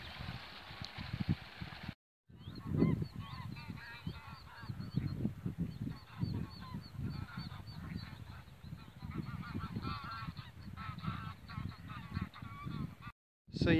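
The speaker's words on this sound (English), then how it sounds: "So you get good views of geese along the reservoir from here." Geese honk continuously along a reservoir on a countryside walk, a dense chorus of many overlapping calls at moderate distance with wind and ambient noise underneath.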